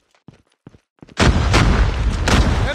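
Grenade explosion in Call of Duty Mobile, a few short muffled thuds followed by a sudden loud blast that sustains into dense rumbling gunfire and further sharp bursts.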